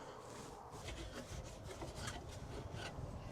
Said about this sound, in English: for stuffing in all these wee nooks and crannies, I wouldn't stuff it in too tight, just make it nice and loose